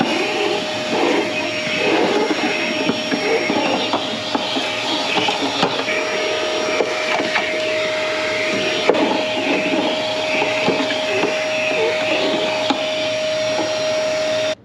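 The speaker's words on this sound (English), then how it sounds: "I think I'm gonna vacuum while I can." Vacuum cleaner sucking up debris inside a flood-damaged, abandoned Honda S2000, a loud steady whine with a constant tone and scattered rattling clicks as debris passes through, running continuously.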